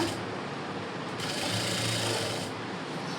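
A sewing machine stitching an embroidered blouse runs steadily and close by for the whole stretch, a continuous mechanical whir with no talking.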